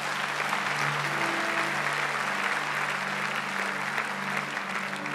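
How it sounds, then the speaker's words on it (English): A church congregation claps after a prayer, a full, even round of many hands sustained for several seconds, with a low musical tone humming steadily underneath. "Give these people a clap."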